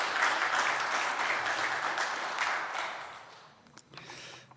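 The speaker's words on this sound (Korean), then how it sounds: "우리 박수로 환영해 주시기 바랍니다." A church congregation at a Sunday service in New York claps in welcome, a full, even round of applause that gradually tapers off and dies away over a few seconds.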